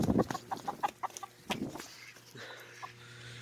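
Chickens squawk and cluck in a flurry of loud, agitated calls as the birds are chased around, easing into scattered softer clucks over a steady low hum.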